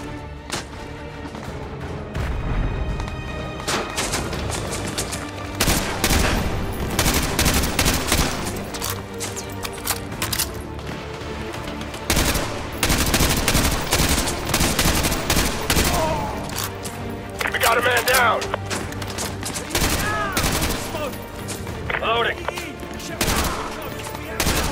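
Dense, continuous gunfire in a realistic military shooter on PS5: rapid automatic bursts and single shots crackle loudly throughout, layered with booming impacts, while radio-style voices call out under the shooting.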